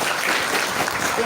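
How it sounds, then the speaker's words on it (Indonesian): Audience applause at a youth leadership training session, steady and dense clapping from a crowd that fills the whole moment without a break. "Tepuk tangan."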